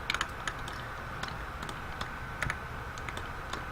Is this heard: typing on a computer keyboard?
yes